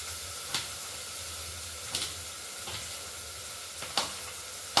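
Chopped onions sautéing in a pan for whole masoor dal, a soft steady sizzle running throughout with a few brief louder clicks of a spoon or spatula stirring at intervals, no voices.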